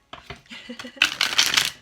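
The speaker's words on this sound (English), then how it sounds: "That was the worst shuffle ever." Tarot cards being shuffled by hand in a quiet room, first a few short soft riffles, then a louder, denser burst of flapping card noise close by.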